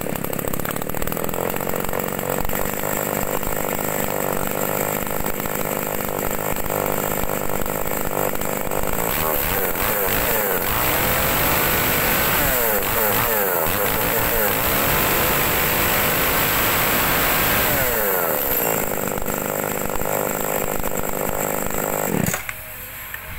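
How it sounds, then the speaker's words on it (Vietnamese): A used Japanese Tanaka chainsaw with a decompression valve and a 37 cm bar runs steadily and loudly close by, engine revving and droning throughout with rough mechanical buzz, cutting out abruptly near the end. "Cho cây cưa Tanaka có trợ lực."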